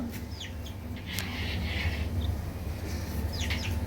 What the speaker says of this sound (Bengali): এটা হলো একটা পাহাড়ি ঝুটি মুরগির বাচ্চা